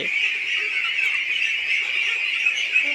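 Ducks quack and honk continuously as a flock, loud and close, with calls overlapping throughout.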